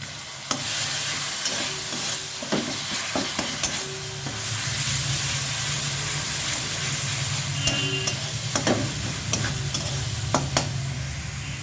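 Ginger garlic paste frying in a pan for a prawn dish, a dense continuous sizzle with repeated spatula scrapes and clinks scattered throughout, close and steady, with no voices.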